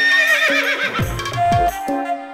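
A horse neighs loudly and close by in a movie scene, a long, wavering whinny followed by shorter snorting calls, with no speech over it.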